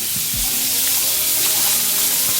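Butter and margarine sizzling in a hot pan, a loud, bright hiss that runs throughout, with a few soft knocks at the start.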